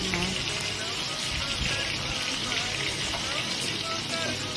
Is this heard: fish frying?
yes